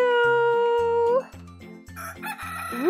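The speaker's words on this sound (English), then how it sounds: "You know what sound roosters make? Cock-a-doodle-doo." A rooster crows loudly and close by, one long drawn-out call followed by several short clucks, then a rising second crow begins at the end, with no voices.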